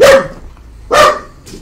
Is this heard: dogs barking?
yes